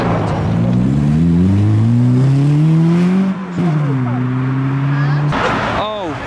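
A modified car pulls away from a Japanese car meet in Reading and accelerates hard, its engine note climbing through the gears in loud, sustained revs before easing off, with a brief higher whine near the end.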